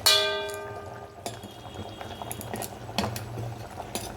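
Food simmers in a clay pot, faint bubbling and soft liquid sounds following a ringing metallic clink at the start, with a few more light knocks scattered throughout.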